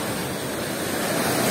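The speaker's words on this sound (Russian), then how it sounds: "Так даже красиво, вон какая волна." Stormy Black Sea surf at Blue Bay beach in Gelendzhik, a steady loud roar of breaking waves with wind noise on the microphone, slowly swelling toward the end, no voices.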